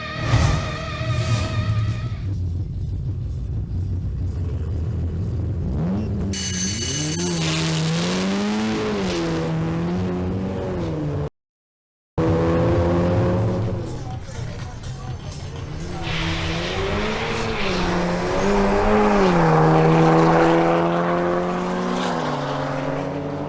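A Seat Leon and a BMW M240i in a drag race: engines rev and rise through gear changes in loud, sweeping bursts, with a short dropout midway, while a commentator talks over the cars throughout.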